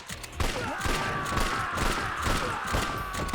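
Video game gunfire in Yakuza 3 comes as a quick burst of shots over a steady whine of game sound, with repeated thuds spread through the stretch at moderate loudness.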